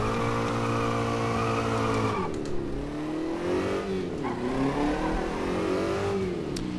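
Formula Vee race car engine in rFactor 2 at Imola, a steady loud drone that revs and shifts pitch, dipping after a gearchange and then climbing and falling as the car accelerates and brakes through corners, with no talk.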